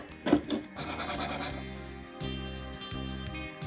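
A broken Dremel used as a manual brush scrubs metal blocks for a shrinker-stretcher stand, giving close, raspy scratching strokes with a steady underlying hum.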